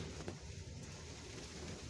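Steady, dense hiss of heavy rain pouring down on a wheat field, filling the background evenly with no voices and no breaks.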